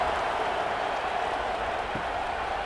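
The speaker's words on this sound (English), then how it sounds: "this crowd is feeling themselves after that last drive" A football stadium crowd roars steadily during an arena football game after a touchdown drive, a broad continuous wash of cheering that holds loud and even for the whole stretch.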